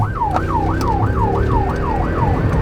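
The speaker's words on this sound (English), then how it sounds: "We're gonna reduce our sirens since we're getting in the area." A police car siren wails in fast rising and falling cycles, loud and close, over a low vehicle rumble, with no talking.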